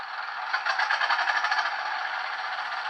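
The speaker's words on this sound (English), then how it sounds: "You can hear all 6 engines starting here." A model diesel locomotive with two auxiliary and four main engines starting up: a thin, buzzy whir that swells into rhythmic chugging pulses, then settles into a steady drone, with no talking.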